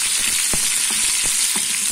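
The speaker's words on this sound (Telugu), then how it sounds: "వేసుకొని ఇది మనం బాగా ఫ్రై చేసుకుందాం ఈ విధంగా" Dried red chillies and curry leaves fry in hot oil for an Andhra-style gongura mutton curry, giving a steady loud sizzle throughout with a few sharp crackling pops scattered across the moment.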